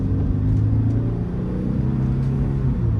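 A 1997 Mercedes-Benz C230 (W202) with a four-cylinder engine accelerates, heard from inside as a loud, steady low rumble that holds evenly throughout with no talk.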